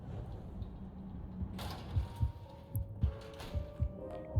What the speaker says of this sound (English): And we still hear hearts.